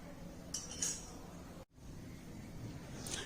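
A spoon clinks lightly a few times against a bowl as oil is spooned into gram flour for microwave Mysore pak, faint metallic taps over a low room hum.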